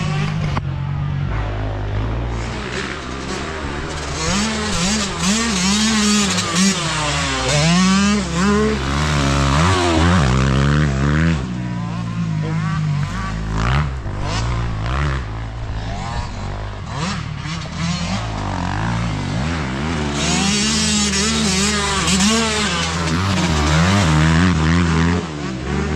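Two motorcycles ride laps on a practice track laid out on about six acres of rough ground, their engines revving and shifting pitch continuously, loud and steady for the whole stretch with no talk over them.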